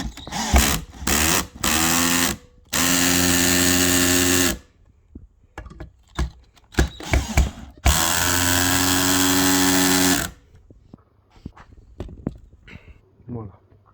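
A power drill with a freshly changed bit whirs in several steady bursts while a Halloween scarecrow is built, some short, two lasting a few seconds, separated by brief knocks and handling noises.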